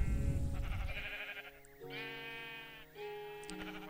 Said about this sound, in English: Sheep shearing machine just, triggered.